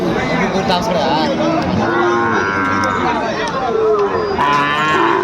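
Sahiwal bull calves low and moo repeatedly at a Gazipur cattle market, loud and close, with long overlapping calls over a busy crowd background.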